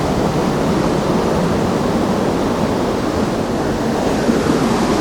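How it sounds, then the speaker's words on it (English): A waterfall at Mount Hope, West Virginia pours in a steady, dense roar of falling water, loud and close, with no variation and no voices. "How beautiful waterfall."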